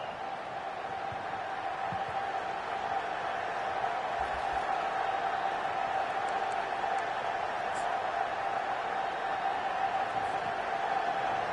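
A stadium crowd at an American football game roars continuously as the offense faces first and goal, a dense, sustained wall of noise with no break.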